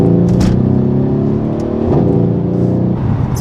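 A Mercedes-AMG engine accelerates hard on a driving-experience track: a loud, continuous deep growl with rising harmonics, close up and alone across a few seconds.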